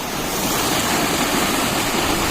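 Floodwater surges through a temple spillway after a sudden heavy first monsoon rain, a continuous roaring rush close by, even and unbroken throughout.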